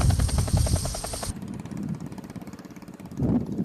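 Helicopter unloading flood relief supplies for flood victims, its loud whining rotor and engine drone dominating at first, then dropping to a quieter, lower rumble that swells again near the end.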